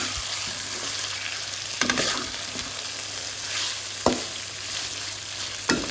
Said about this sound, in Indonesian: Sekali-sekali kita aduk ya, supaya nggak gosong.